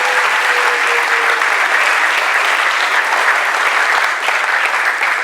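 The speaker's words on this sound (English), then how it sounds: "let's give a round of applause to all the startups who brave enough to come here today" A crowd of about 400 at a Miami startup demo night applauds the presenting startups, loud, dense, even clapping sustained from start to finish with no talk.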